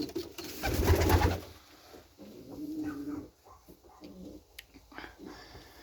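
Pet pigeons, favourite birds of their keeper, cooing nearby in a short loud burst followed by softer repeated coos and rustling, with no talk.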